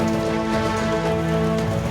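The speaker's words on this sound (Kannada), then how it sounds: "ಮಂಡ್ಯದಲ್ಲೂ ಎಡಬಿಡದೆ ಮಳೆ ಸುರಿಯುತ್ತಿದೆ" Steady, unbroken rain in Mandya, Karnataka, during heavy rainfall from Cyclone Fengal, a dense, loud hiss blended with a constant low tonal hum.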